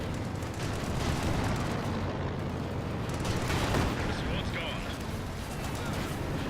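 Artillery shelling in the World War II strategy game Company of Heroes 2, a rumbling barrage of booms and blasts rolling continuously for several seconds while someone talks over the battle.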